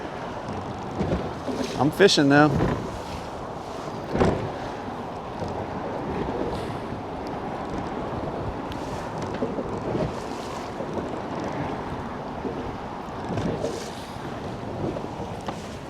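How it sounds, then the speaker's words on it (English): Wind buffets the microphone as a fishing boat rocks and slaps across choppy water near a bridge, with someone talking briefly over the steady rushing noise. "Boat's bouncing along."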